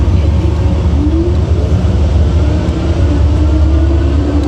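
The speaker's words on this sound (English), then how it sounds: "let's see how quickly it accelerates." A Kingbull EX Titan e-bike accelerating on throttle alone, heard as a loud, steady roar of wind and road rumble with a faint rising motor whine underneath.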